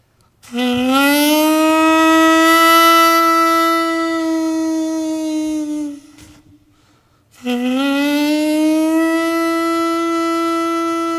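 An instrument mimics a siren: a bright, buzzy tone swoops upward and holds, breaks off briefly, then swoops up and holds again.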